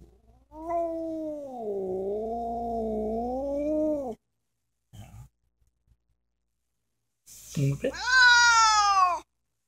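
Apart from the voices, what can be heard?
cat meowing and caterwauling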